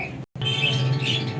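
Pigeons being handled and checked give sharp squawks and chirps close by, broken by a brief gap, over a low background hum.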